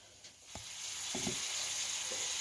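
A steady, hissing sizzle of mushrooms frying in oil in a pan, with a few soft clicks and scrapes from utensils.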